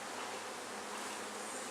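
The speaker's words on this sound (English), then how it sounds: "A bunch of bees on a rock." Swarm of honeybees clustered on a rock beside a hive outdoors, a dense, even buzzing hum that stays steady and close with no breaks.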